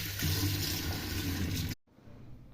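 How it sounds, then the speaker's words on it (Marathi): Water runs steadily as mixed vegetables (dry fish-style Maharashtrian sabzi with wakti, ridge gourd, brinjal and potato) are washed, a continuous splashing flow that cuts off abruptly near the end, leaving quiet room tone. "आता आपली भाजी धुवून घेऊया"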